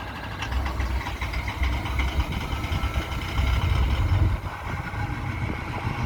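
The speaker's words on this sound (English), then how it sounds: "It's a Ford trying to start." Old Ford diesel engine struggling to start, a rough low rumbling chug with uneven pulses and knocking, fairly close and steady without speech.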